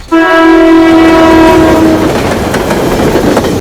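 A train horn blares loud and close, a long multi-tone blast that fades into the rumble and clatter of the approaching train.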